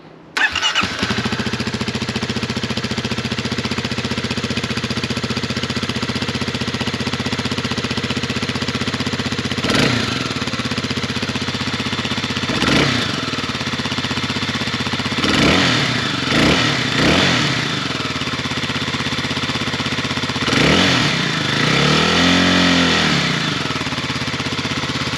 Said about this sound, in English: Okay, let's see the decibels with the stock exhaust. 2022 KLX 300.